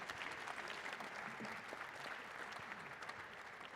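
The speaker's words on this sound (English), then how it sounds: "Give them a round of applause" Faint, distant audience applause for startup presenters at a pitch competition, a steady, even patter of many hands clapping throughout without letting up.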